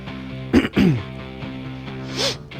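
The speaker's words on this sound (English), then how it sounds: "Stop clearing your throat over Sorry" Someone clears their throat in two quick, harsh bursts, followed a moment later by a shorter rasping sound.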